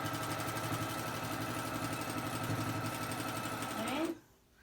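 A sewing machine quilts on a Cutie quilting frame, its fast needle chatter running steady and close for about four seconds before stopping abruptly.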